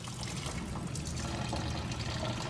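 Water trickles and pours steadily out of the engine block of a wrecked Toyota JZX100 Chaser, a continuous close splashing, dribbling flow with no talking over it.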